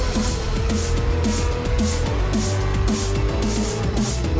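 Car engine in a racing video game revs steadily under acceleration, a continuous loud drone with repeated gear-shift surges and no talk over it.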